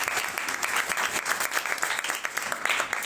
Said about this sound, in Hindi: शुक्रगुजारी तालियों के साथ करेंगे